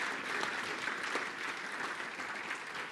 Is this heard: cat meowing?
no